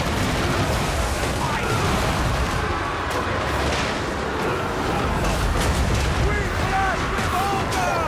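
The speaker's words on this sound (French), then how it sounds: "Oh, l'artillerie elle est phénoménale. Hein. Et elle fait des dégâts assez colossaux." Artillery booms during a Total War: Warhammer III battle, a dense, continuous rumble of blasts and battle noise with players talking over it.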